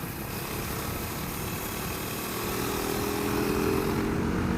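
KTM RC390 motorcycle engine on a track ride, a steady loud droning buzz held close throughout, rising slightly in pitch and loudness toward the end as the throttle opens.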